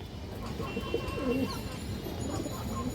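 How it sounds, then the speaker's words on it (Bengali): Soft cooing from a Pakistani high flyer Rampuri female pigeon, a few low rolling coos close by over a steady background hum, with no talking. "পাকিস্তানি হাই ফ্লায়ার রামপুরি মাদি কবুতর"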